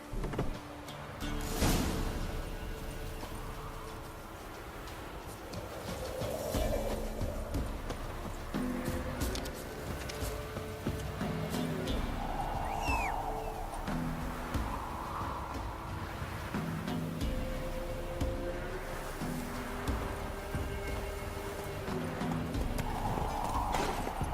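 Geralt's horse Roach gallops in The Witcher 3: Wild Hunt, a steady rhythmic clip-clop of hooves running for a long stretch, with occasional whinnies, creaks and background game sounds.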